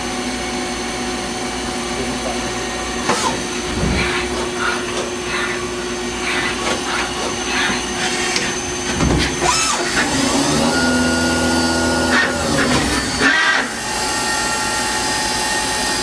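A Citizen M32 CNC Swiss-type lathe turns a part on a wet job, giving a steady machine whine and hum with intermittent clicks and higher tonal shifts as the cut changes, heard close up without talk.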